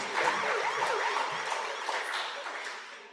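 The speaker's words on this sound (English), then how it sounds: "Let's give them another round of applause as a close." Audience applause at the closing of a UN Volunteers Kenya panel session on AI and accessibility, a broad steady wash of clapping that stays loud and then slowly thins toward the end, with a little crowd murmur underneath.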